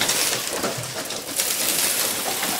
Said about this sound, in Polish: a czemu siedzi ten gołąb?